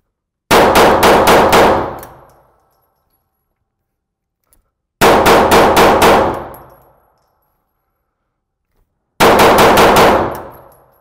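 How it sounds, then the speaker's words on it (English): Pistol fired rapidly at an indoor range in three separate bursts of about five or six sharp, loud shots each, every burst ringing out into a reverberant decay with silent pauses between. "now I'm just going to fire 5, 6 rounds into each circle, focusing on speed and focusing on my grip and rapid firing"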